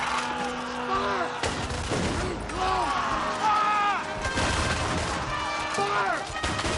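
Musket volleys fired by an infantry rank in a Napoleonic-era siege battle, sharp bursts cracking under shouted commands, music and battle din throughout.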